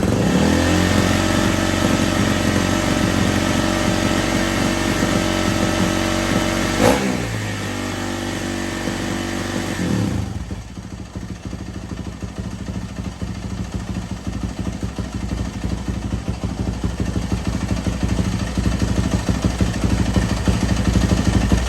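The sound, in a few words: Yamaha YZ450F dirt bike engine running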